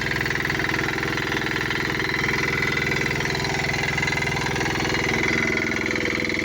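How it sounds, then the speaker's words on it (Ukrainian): A Yanmar diesel engine driving a Casella irrigation drum watering carrots chugs steadily and loudly nearby, a constant rhythmic drone with a mechanical whir layered over it and no pauses. "Дизельний двигун Янмар, який крутить барабана."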